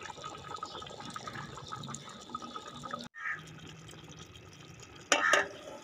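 Soft scraping and liquid swishing as chicken fried rice is stirred with a spoon in a pot, steady throughout, with a brief sharper clatter near the end.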